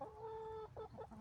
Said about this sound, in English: The Trustlinks Westcliff resident chickens